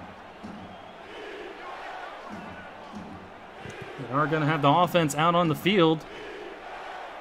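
A San Antonio football stadium crowd chants a loud, pitched, rhythmic call of "defense" for about two seconds, rising over a sports announcer's steady commentary and the broad hum of the stands.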